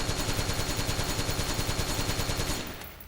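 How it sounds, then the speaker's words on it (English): Rapid sustained automatic fire from an M4 rifle emptying its magazine in Metal Gear Solid 4, loud evenly spaced shots rattling for about two and a half seconds before fading off. "let's mag dump the M4"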